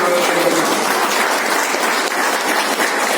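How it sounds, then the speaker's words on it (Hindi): A standing audience claps loudly and steadily for themselves at a talk, a dense, sustained wash of applause that fills the whole stretch without a break. "अपने लिए ताली बजाइए, जोरदार ताली से"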